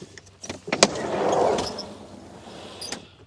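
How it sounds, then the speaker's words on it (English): Tailgate of a car fitted with a Kaymar rear bar and Stone Stomper stone protection swinging open: a few close clicks and a latch clunk, then a broad mechanical whirring rush that swells and fades, ending with a light click. "Well, I can open the tailgate."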